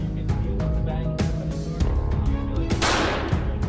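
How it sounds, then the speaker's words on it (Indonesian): Gunfire in the Free Fire game during shooting practice: several sharp, loud game gunshots in quick irregular succession, layered over background game music and effects. "Dia berlatih menembak,"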